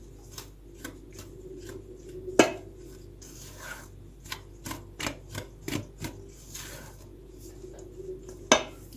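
A utensil scrapes and clinks against a pot in irregular strokes while mixing Tabriz kafgiri halva, with occasional sharper knocks amid quiet background noise.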